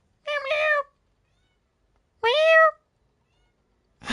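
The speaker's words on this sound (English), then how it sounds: "I hear a kitty outside." A cat meows twice outside in a video game, two clear, loud drawn-out calls separated by a pause of silence, with a third sound just starting at the end.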